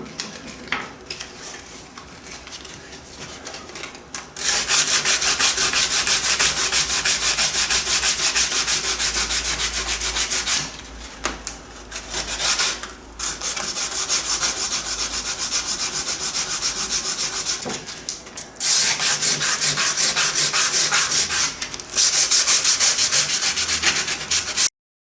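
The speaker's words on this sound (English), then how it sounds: "I think the rest is just down to sanding." Steady, loud abrasive rasping of sandpaper on a wooden boat rudder, continuous back-and-forth strokes with a few short pauses, close up and alone.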